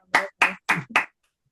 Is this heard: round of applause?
yes